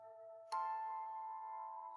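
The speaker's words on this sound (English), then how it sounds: "An ice cream bell." A ringing ice cream vendor's bell on a street-cart at night, one clear struck ding followed by a long sustained metallic ring that slowly decays, faint and alone.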